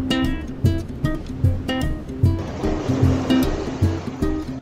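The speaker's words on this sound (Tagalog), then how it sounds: "Dito may alon." Ocean waves surging and breaking on the shore at La Union during stormy-weather fishing, loud and close, with repeated sharp splashes and a continuous rushing wash.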